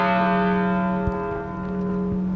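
Church bells ring out for mourning and remembrance, a sustained resonant bell tone with long humming overtones and faint strikes.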